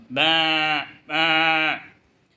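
A sheep bleats twice, two loud drawn-out nasal calls close by, each about half a second long and separated by a short pause.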